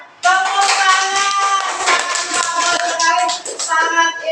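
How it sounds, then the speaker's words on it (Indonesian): A small group of classmates clapping for a group product presentation in a classroom, dense steady applause lasting a few seconds, with children's voices and tonal sounds mixed underneath. "Tepuk tangan"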